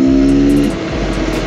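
Street-legal Beta X Trainer 300 two-stroke dirt bike cruising on the road, its engine a steady, continuous drone with a low tone that shifts slightly partway through, close and fairly loud, with no talk.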